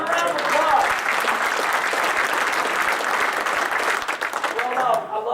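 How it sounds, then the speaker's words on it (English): Applause from a crowd of corn growers at an annual association meeting, a full roar of clapping that swells early, holds steady, then thins out near the end, with some voices mixed in. "Give yourselves a round of applause."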